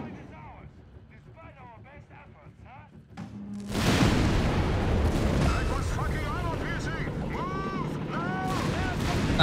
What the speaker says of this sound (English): We got the JFG's anti tanks ready to engage the Lattouf's Panthers.